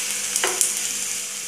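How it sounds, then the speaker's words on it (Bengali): Fenugreek seeds fry in oil with chopped garlic in a village-style kitchen, a close steady sizzle broken by short scraping stirs of the spatula. "এখন আমি এতে দিয়ে দিব মেথি।"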